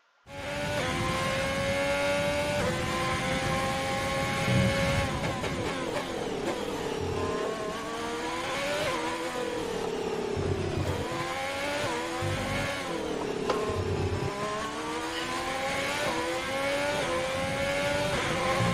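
A Ferrari Formula 1 car engine on a flying hot lap in the F1 2020 video game at Abu Dhabi, a continuous high-revving scream rising and falling through upshifts and braking, loud and unbroken for the whole stretch.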